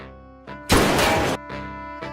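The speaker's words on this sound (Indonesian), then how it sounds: "terdengar suara keras tembakan dan gembok pecah" A film gunshot and a padlock breaking come as one loud, harsh crash of about half a second, framed by a tense musical drone before and after.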